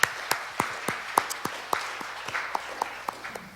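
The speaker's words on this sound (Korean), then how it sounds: "우리 하나님께 영광의 박수 올려드립시다." A congregation at a Korean Friday night church service claps, giving a run of sharp, evenly spaced hand claps at a steady rhythm, moderately close, with no voices over them.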